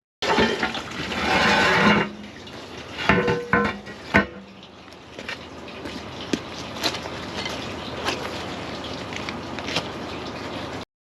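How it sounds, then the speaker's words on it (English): Water rushes through a drain under an open manhole cover where a gully had been blocked: a loud gushing burst, then a steady flow broken by a few knocks and clunks. "So there's our drain running at a lot healthier level."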